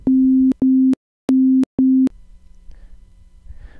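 A ramp oscillator synth patch built in Reaktor with added phase modulation plays a steady tone in four short, evenly spaced bursts, then stops, leaving a faint low hum.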